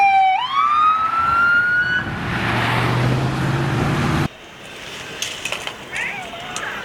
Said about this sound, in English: This is fire emergency unit jeep, guys.